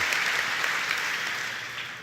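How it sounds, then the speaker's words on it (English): A studio audience claps steadily for a couple of seconds during a podcast interview, a dense wash of applause that slowly tapers off, with no voices. "Let's take an applause break"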